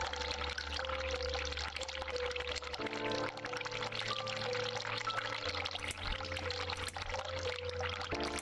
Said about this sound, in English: Let me turn on the sink